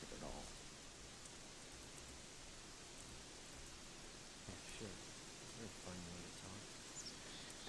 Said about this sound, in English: That rain though.